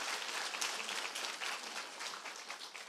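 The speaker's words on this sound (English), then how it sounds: "can you give him a big round of applause?" A crowd applauds the academy leaders seated in front at a business conference, steady dense clapping sustained throughout without pause.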